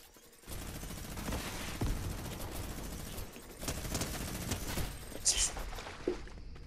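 A gun firing in a Fortnite Creative body-cam map, a steady run of rapid shots at moderate loudness with a sharp louder crack near the end, while a player talks over it.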